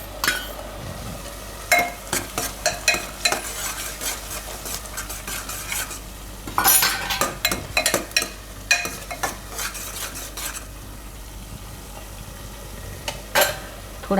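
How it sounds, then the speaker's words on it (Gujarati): Grated bottle gourd tipped into a hot pan and stirred, spoon scraping and clinking against the pan in repeated close bursts over a light sizzle, with quieter gaps between. "હવે આમાં દૂધી નાખી દે હું,"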